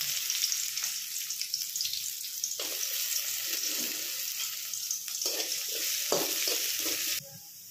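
Onions sizzle and fry in a pan for paneer matar curry, giving a steady close hiss with brief stirring scrapes before the sound drops off at the end.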